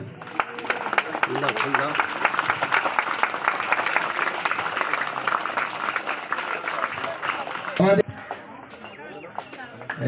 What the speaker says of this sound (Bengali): হাততালি দেবেন সবাই।